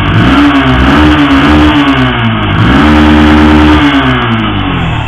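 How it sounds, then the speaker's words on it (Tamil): A Yamaha FZ V2 motorcycle's exhaust revs loudly and close up, the engine note rising and falling through several throttle blips with a steady low rumble underneath and no talking. "ஸோ இதுதான் இந்த வண்டியோட எக்ஸாஸ்ட் சவுண்டு இது."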